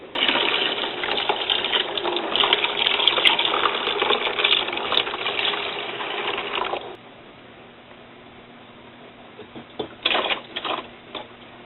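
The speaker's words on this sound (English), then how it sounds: "First, you pour the water." Water poured into a home coffee maker's reservoir, a steady close splashing gush lasting several seconds, then quieter handling clatter and a few brief knocks.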